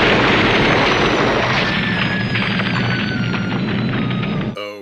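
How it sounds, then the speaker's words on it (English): An ice crystal grenade exploding in the fantasy film The Dungeonmaster: a dense, roaring blast with crackling debris and a high whistling tone sustained for several seconds before cutting off abruptly. "he just finds some weird ice crystal grenade that kills them all"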